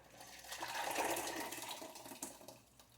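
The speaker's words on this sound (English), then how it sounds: "Now we can add the blended plantains." Blended plantain mixture poured from a mixing bowl into a cooking pot, a steady close wet pouring and splashing that swells and then tapers off, with no talk.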